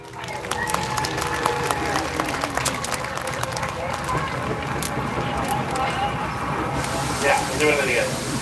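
A burst of clapping and crowd noise at a threshermen's reunion steam show, dense and crackling, with voices mixed in throughout.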